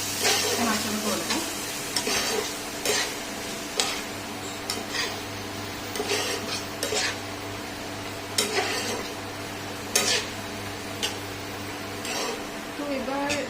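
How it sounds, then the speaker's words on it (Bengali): Yogurt being stirred into a sizzling frying mixture in a pan, with repeated spoon scrapes and clinks over a steady sizzle; a voice talks throughout. "দইটা দিয়ে এবার আমি এটাকে একটুখানি ভালোভাবে নাড়াচাড়া করবো।"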